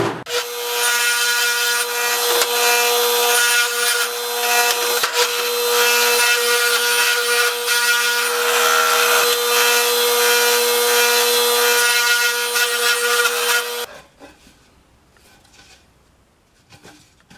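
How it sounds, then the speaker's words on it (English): A power saw cuts plywood box pieces to length, a loud steady high-pitched whine with a strong tonal hum lasting about fourteen seconds before it cuts off, leaving faint shop clatter. "This segment is cutting the top, bottom, and small sides to length"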